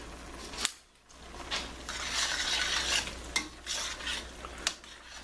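Large U10 shrimp with fresh spinach and mushrooms are stirred in a pan over very high flame, with a steady sizzle under repeated sharp scrapes and clinks of a utensil against the pan.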